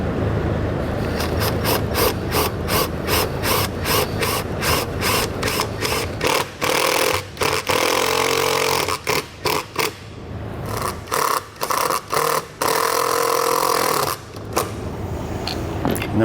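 A power drill drives self-tapping screws into the aluminum frame of a 2021 Grand Design Reflection fifth wheel RV, a loud near buzzing whir in repeated short bursts and pulses, with brief pauses between runs.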